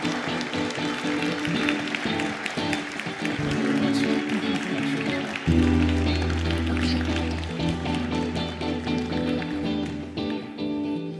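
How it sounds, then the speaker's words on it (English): Audience applause fills a conference hall at an award ceremony, a dense steady wash of clapping with background music and stage sound mixed in throughout. "give a big applause to Involio"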